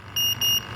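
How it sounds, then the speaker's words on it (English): Alarm on a Drager X-am 3000 gas detector during calibration, sounding as two shrill, steady electronic beeps in quick succession, loud and close, with a faint hum behind. "this instrument has a tactile alarm, ever so slight, but it does have a tactile alarm to it"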